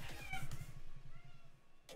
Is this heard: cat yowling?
yes